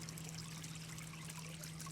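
Water trickles steadily from a large rock fountain, a soft continuous splashing and dribbling heard close and alone, with a low steady hum beneath it.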